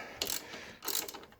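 A ratchet tightens alternator bolts on a 2001 Subaru Legacy, two quick close bursts of rapid clicking separated by a short pause.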